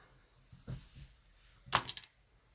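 A small covered button maker gadget is pressed down, giving faint clicks and thuds: a soft knock, then a sharper click with a brief rattle, all quiet against low background.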